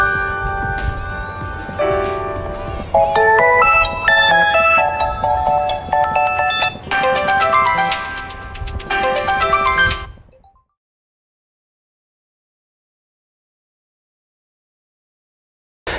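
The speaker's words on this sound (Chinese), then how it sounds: "魅族16系列还专门调教了每个铃声的震动效果" Meizu 16 phone ringtone playing loud and clear as a bright melodic tune of bell-like tones for about ten seconds, then stopping abruptly into silence.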